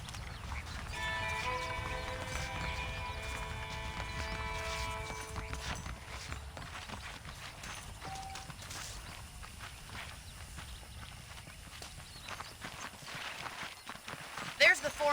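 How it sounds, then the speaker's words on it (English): Horse hooves clip-clop at a walking pace in Red Dead Redemption, steady and moderately close, under sustained in-game music tones with a voice speaking over them. "The horses are saddled up over here."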